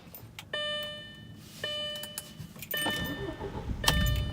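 An Audi B7 car engine cranks and turns over in a few bursts with chiming tones, then catches and settles into a rough idle, close by, after a battery change.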